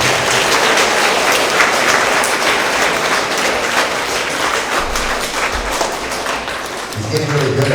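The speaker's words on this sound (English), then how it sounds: "let's give Aldo a big round of applause for being up here." A school assembly audience of 3rd to 5th graders applauds: dense, loud, sustained clapping from many hands filling the room, with scattered voices mixed in and a speaker beginning to talk as it fades near the end.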